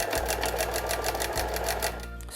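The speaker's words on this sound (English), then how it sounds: "Needle up and the buttonhole is sewn." A sewing machine stitches a buttonhole in a fast, even rhythmic whir of needle strokes, close and loud, slowing and stopping just before the end.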